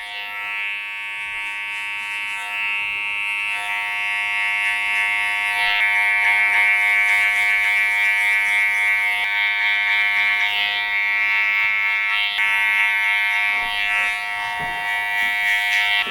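Hair clippers fitted with a number 2 guard cut hair with a steady, close electric buzz that holds throughout, its pitch wavering slightly as the blades move through the hair.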